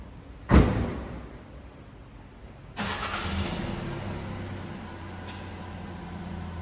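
Fiat Panda hybrid with manual transmission climbing a ramp: a sharp thump early on, then from about three seconds a steady engine drone under full throttle, moderately loud and continuous.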